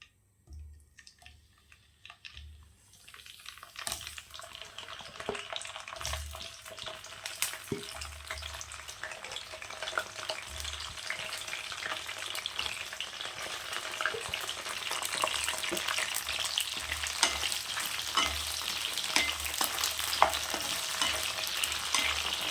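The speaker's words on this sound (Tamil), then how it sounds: "கடாயை வச்சுக்கலாம் எண்ணெய் சேர்த்துக்கலாம் கத்திரிக்காயை சேர்த்துக்கலாம்" Eggplant frying in oil in a kadai, starting quietly and building into a steady rising sizzle with scattered spoon clicks and stirring taps.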